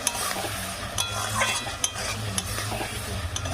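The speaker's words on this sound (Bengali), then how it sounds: "সব পেঁয়াজগুলো কিন্তু খুব সুন্দর করে ভেজে নিতে হবে" Chopped onions sizzling in a pan for a chicken curry, with a spoon repeatedly scraping and stirring against the metal, a steady close frying hiss punctuated by clinks, no talking.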